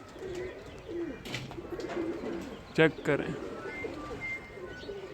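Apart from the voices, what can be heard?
male pigeons cooing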